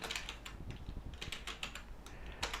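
Rapid typing on a computer keyboard, a steady run of soft, close key taps with a few bunched bursts and no voices.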